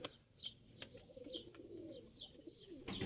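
Pigeons coo softly and faintly, with occasional sharp wing claps and flapping, in a quiet outdoor setting.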